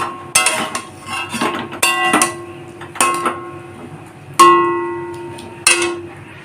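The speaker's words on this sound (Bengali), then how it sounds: "এরপরে হালকা নাড়াচাড়া করে নেব" A metal spoon strikes the pan while stirring drumstick poppy seed curry drizzled with raw mustard oil, giving about six distinct ringing clinks, each with a short metallic decay, close and clear.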